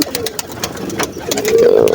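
Domestic pigeons, including white birds, at a home loft coo in a low, throaty murmur that grows louder and steadier toward the end, with someone talking over them.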